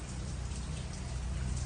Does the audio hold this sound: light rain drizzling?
yes